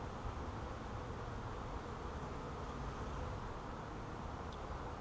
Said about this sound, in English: We don't have nearly as many bees in the air.